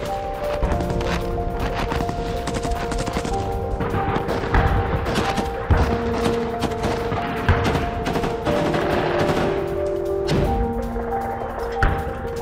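Gunfire crackles in an attack on a military base at Novomykhailivka, with dense bursts and sharp cracks over a constant rumble, plus a few heavier impacts, all fairly distant.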